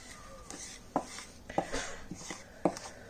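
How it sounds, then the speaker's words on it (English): Salt dough being mixed with a spoon in a bowl: a few quiet, irregular scraping and knocking taps of spoon against bowl, close by, with no talk. "So give it a good mix, try and bring it all together, try and get all the flour"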